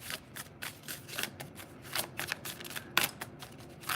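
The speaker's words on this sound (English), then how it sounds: "I'll shuffle with the tarot in a minute" Close, quick riffling and shuffling of a tarot card deck in uneven bursts, papery flutters repeating over a few seconds with no talking.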